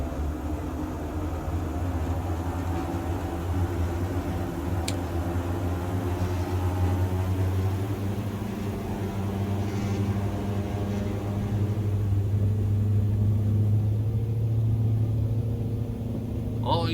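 Steady droning engine rumble of a DA42 twin-engine aircraft on its takeoff roll in a flight simulator game, a continuous loud hum with no breaks.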